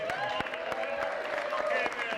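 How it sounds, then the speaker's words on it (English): An audience claps after accordion polka music, brisk scattered applause with distinct hand claps, while a voice and lingering tones carry underneath. "Great round of applause"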